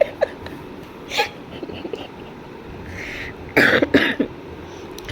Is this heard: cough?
yes